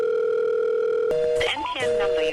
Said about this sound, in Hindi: तब जस्मीन के अंकल उसे कॉल करते हैं, लेकिन जस्मीन का फोन लगातार स्विच ऑफ आ रहा था।